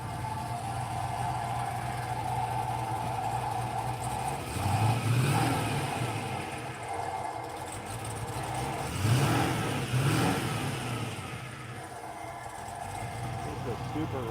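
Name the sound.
1968 Triumph TR250 engine warming up and revving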